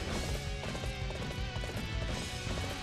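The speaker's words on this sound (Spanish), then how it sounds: "Caballo." A horse gallops in Dynasty Warriors 8, its rapid rhythmic hoofbeats dense and continuous amid loud, busy game sound.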